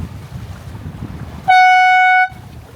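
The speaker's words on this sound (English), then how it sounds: "we've now got the foghorn out." A boat's foghorn sounds once in fog on the water near Portsmouth, a single loud, steady blast lasting under a second, starting abruptly and cutting off cleanly against quiet background noise.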